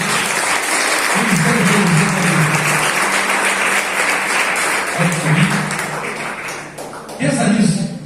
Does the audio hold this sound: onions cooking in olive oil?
no